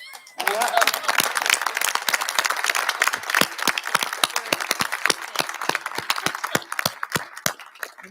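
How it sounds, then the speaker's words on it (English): Audience applause at the close of an evening talk on the Underground Railroad, a crowd clapping steadily for about eight seconds, dense at first and then thinning to scattered, fading claps near the end. "can we please give a round of applause to Laura Mannion?"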